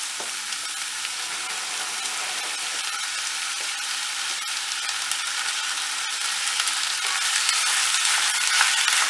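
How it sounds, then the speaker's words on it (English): Turkey mince fries and is stirred in a pan, giving a steady, close, broadband sizzle that rises slightly toward the end, with faint scraping of the utensil and no talk. "And the turkey, we just want to stir around the bowl and make sure it softens up."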